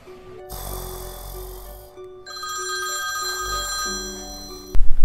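A telephone rings at night with a steady electronic ringtone that repeats in tonal phrases, loud and close, with a brief gap partway through and a sharp knock or rustle at the very end.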